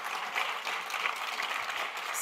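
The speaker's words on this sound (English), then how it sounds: "Let's give them a round of applause" A seated audience at a book award debate event applauds, a thick, even patter of many claps at moderate loudness, with no voices rising above it.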